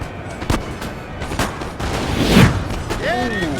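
Cannon firing canister shot and volleys of musket fire in a Napoleonic battle video game, heard as a string of sharp reports and booms with a louder blast near the middle and rising whistles near the end.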